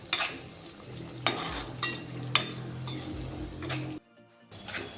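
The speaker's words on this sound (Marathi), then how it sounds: "आपल्याला हे पाच मिनटं मिश्रण असं परतून घ्यायचं आहे" Masala and green peas stir-fried in a pan for aloo matar, with close spoon scrapes and taps against the pan repeating over a low sizzle, then a brief silent gap before stirring resumes, no talk.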